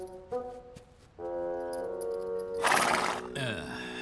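A horse neighs in a long, loud whinny with a harmonic tone, followed by a bright burst of noise, heard up close with nothing else around it.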